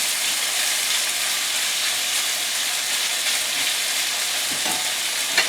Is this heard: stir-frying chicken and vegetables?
yes